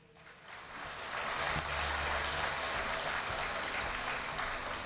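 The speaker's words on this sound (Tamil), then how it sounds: "கரகோஷம்." Sustained applause from a large audience at a Tamil talk by Suki Sivam, a steady dense wash of clapping that swells after the first second and holds loud to the end.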